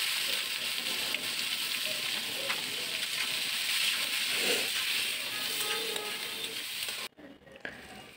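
Chopped onion and green chili fry in a pan for a Bangladeshi tomato egg bhuna, a steady close sizzle and hiss with faint stirring, cutting out sharply near the end.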